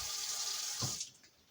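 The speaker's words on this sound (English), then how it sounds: "I'm going to use another method here. A little thermos of water." Water pours from a small thermos into a cooking pot, a steady splashing rush close by for about a second before it cuts off and fades to quiet, with no talking.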